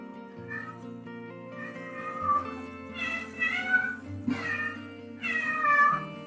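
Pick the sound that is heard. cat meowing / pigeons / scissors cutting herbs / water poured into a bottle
cat meowing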